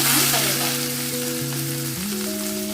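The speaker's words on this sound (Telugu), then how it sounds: "సో ఇవన్నీ కూడా వేసి బాగా ఫ్రై చేయండి గా వచ్చే వరకు ఉల్లిపాయని ఫ్రై చేయండి" Chopped onions and green chillies fry in oil with popping mustard and fenugreek seeds, a dense close sizzle holding steady for a few seconds, with no talk.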